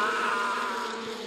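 Loud, steady bee buzzing fills a short stretch of a Russian TV commercial for a bee-venom ointment. The drone is dense and continuous with no talk over it.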